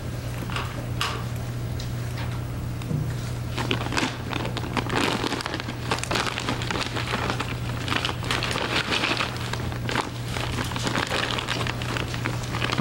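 A plastic evidence bag holding a paper envelope is handled in a courtroom, giving steady crinkling and rustling with scattered crackles over a low constant hum, with no speech.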